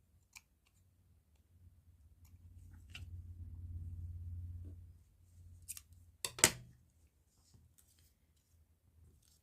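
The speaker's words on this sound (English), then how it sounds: "Trim off the excess." Scissors trim excess material from a handmade card, a few faint snips and a low rustling stretch in the middle, then a couple of sharper clicks and snaps near the end, with no talking.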